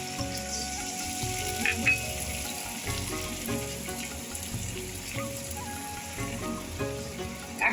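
Ginger and green chilli paste sizzles steadily in hot oil while mutton cooks, a faint, continuous frying crackle with small spatters and occasional stirring knocks, with no voices over it.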